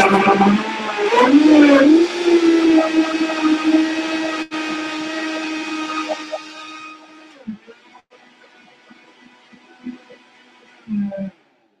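A Vitamix blender runs on ice for a smoothie, its loud motor whine climbing in pitch and holding steady for several seconds before winding down and stopping, followed by a few quieter knocks and a brief final whir.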